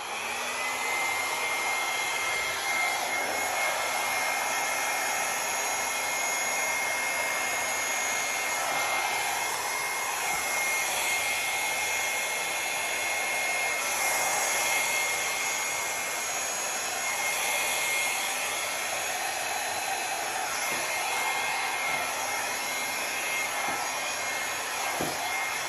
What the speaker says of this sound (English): I'm gonna use my small blow dryer and I'm gonna blow it out.